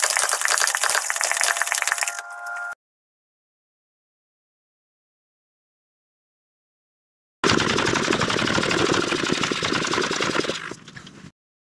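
A hand pump forces fluid into a Weddle S4D transaxle in two dense, rattling bursts of rapid strokes, separated by a long stretch of silence.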